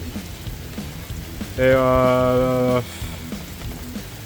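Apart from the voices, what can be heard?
heavy rain during a thunderstorm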